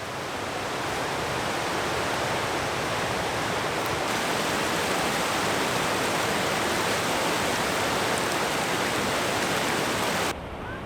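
A waterfall in Lemmenjoki National Park rushes in a dense, steady roar close by, a broad, unbroken wash of falling water with no talk and only a slight drop at the very end.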